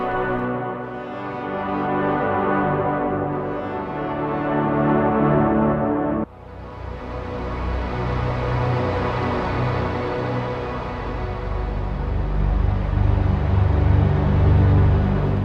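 A sustained ambient guitar wash from a Nimbus effect, shimmering and reverberant, that cuts briefly and resumes with a deep low rumble building beneath the bright top end.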